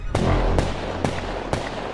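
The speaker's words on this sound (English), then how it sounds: "You hear gunshots from outside." Four sharp gunshot cracks ring out at an even, steady pace over a continuous low rumbling background.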